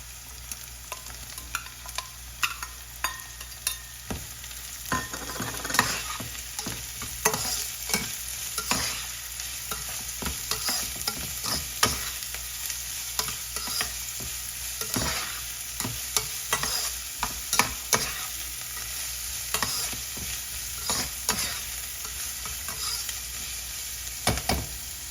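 Capsicum being stirred and fried in a pan for a leftover roti bhel, with a steady sizzle and repeated scraping strokes of the spoon throughout, close and moderately loud, with no talking.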